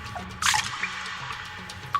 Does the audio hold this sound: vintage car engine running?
no